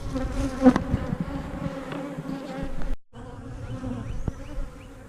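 Honeybees buzzing in an opened hive, a close, continuous hum of many wings with wavering pitch, briefly cut out and then resuming, with no talk.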